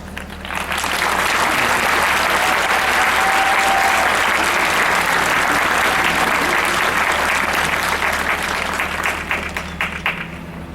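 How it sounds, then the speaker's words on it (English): A large audience applauds steadily at a university economics department graduation, loud sustained clapping that swells quickly at the start and carries on for about ten seconds. "Let's have a round of applause."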